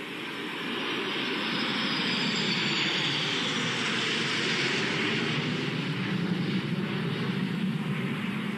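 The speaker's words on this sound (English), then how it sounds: "There will now be a flypast of aircraft from Belgium, the United States, Italy, Germany, the United Kingdom, the Czech Republic, France, and the Netherlands, including F-16s, Gripens, Eurofighter Typhoons" Military jets including F-16s, Gripens and Eurofighter Typhoons fly past during a NATO ceremony in Evere, Brussels, a loud sustained roar that builds quickly and holds as the formation passes overhead.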